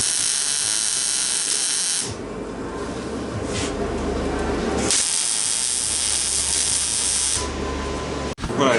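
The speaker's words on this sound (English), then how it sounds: "Got our spot weld holes prepped. A few spot welds here." Spot welds on the upper radiator support of an airport limousine, heard as three long, loud, hissing crackle bursts separated by brief pauses, ending with a short sharp cutoff.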